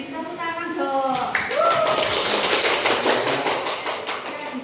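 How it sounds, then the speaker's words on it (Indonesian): Classroom group applause starts after a voice speaks, breaking into dense, loud clapping that keeps going to the end. "Beri tepuk tangan dong."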